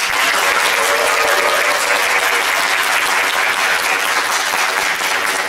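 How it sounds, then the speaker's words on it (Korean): A university lecture audience at Daejeon University claps in a dense, steady wave, sustained applause from a full hall at constant loudness, with no speech over it. "다시 한번 여러분의 박수와 환호로 문을 열도록 하겠습니다"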